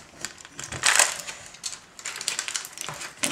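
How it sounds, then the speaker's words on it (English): A knife slices open a soft cooked butternut squash, giving close, quiet crunching and crackling scrapes through the skin, with a brief louder crackle in the middle. "I'm just going to cut it open."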